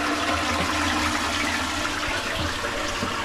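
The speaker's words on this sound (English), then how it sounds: "It just sits there until you flush it." A toilet flushing in the Netherlands, a loud close rushing surge of water with a low gurgle underneath, continuous throughout and with no talk.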